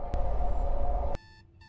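An alarm clock sounds one loud, continuous electronic beep that lasts about a second before cutting off, leaving faint ringing tones after it.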